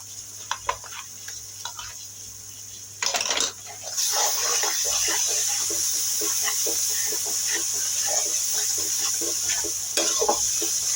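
Spices frying in a pan for chicken roast, with nut paste added and stirred in. Scraping and stirring clatter over soft sizzle, followed by a steady, louder hiss of frying that runs to the end, with a brief burst of sizzle near the middle.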